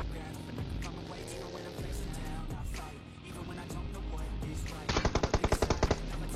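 Video game gunfire during a match with headshots: a continuous rumbling battle bed, then a loud rapid burst of about ten evenly spaced automatic shots near the end, with no talking.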